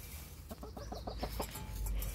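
Backyard chicken clucking in a short run of quick, moderately close calls, with a steady low background rumble and no voices.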